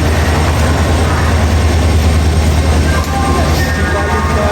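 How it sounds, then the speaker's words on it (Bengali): Express train at Howrah station, a loud continuous low rumble and roar of a heavy engine close by, steady throughout with no talk over it. "ওই যে ট্রেনটা ছেড়ে দেবে কিছুক্ষণের মধ্যে"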